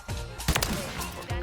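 Shotgun blasts in hardcore Search and Destroy matches of Call of Duty MW3 and BO6, a few loud close bursts in quick succession over a short stretch of game noise.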